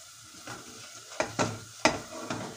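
Onion, garlic and curry powder sizzle in a pan as a spoon stirs them, with several distinct scraping strokes over a soft frying hiss, close and without talk.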